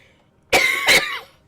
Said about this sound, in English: Oh my goodness, I can't stop the cough